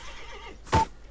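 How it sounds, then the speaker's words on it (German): A horse in the video game A Hero's Call gives a single short neigh, loud and close, rising over a quiet ambient game background and fading quickly. "Oh, Pferde."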